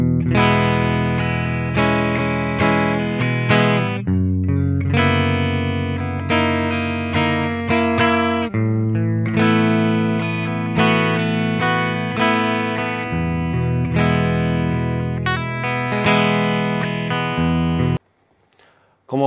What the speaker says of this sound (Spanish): es una guitarra que tiene un lindo color, etcétera, pero es simplemente un canal limpio que no tiene absolutamente nada